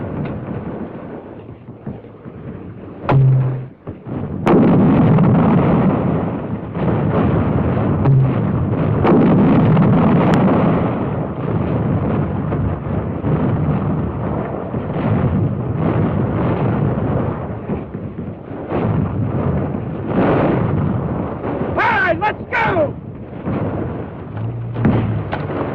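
Smoke rounds fired at charge 1 to screen a covering party during a platoon attack on a built-up area, heard as a few heavy booms over a continuous rumbling battle din, with sharper cracks near the end.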